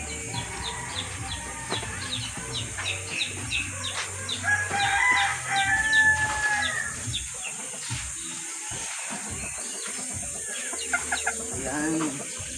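Chickens and chicks cluck and a rooster crows nearby, mixed with scattered bird calls and a steady background hum; a voice speaks briefly.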